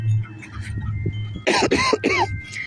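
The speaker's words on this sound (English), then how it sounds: "I still have a bit of a cough." A quiet voice murmurs, then a burst of three or four harsh coughs follows in quick succession, close and loud.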